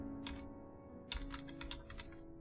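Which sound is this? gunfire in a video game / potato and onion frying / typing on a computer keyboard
typing on a computer keyboard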